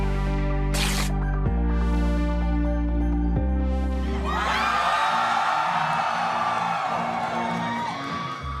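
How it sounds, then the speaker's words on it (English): An intimate, passionate concert crowd in Philadelphia cheers and whoops, the loud roar swelling in after music and holding steady to the end. "In front of an intimate and passionate crowd in Philadelphia"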